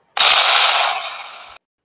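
A loud burst of dynamite blasting in a Thomas the Tank Engine railway episode: one sudden, sharp onset that roars broadly and then tails off over roughly a second and a half before cutting away.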